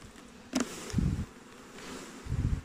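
Honey bees buzzing around opened beehives in New Zealand, a close, fluctuating drone with a few louder swells as insects pass near, and no voices.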